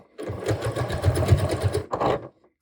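Close by, a sewing machine back stitches ribbing on a knit top in a short burst of rapid pulsing stitches, a brief pause, then a second quick run before it stops.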